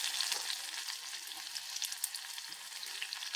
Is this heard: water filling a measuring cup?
no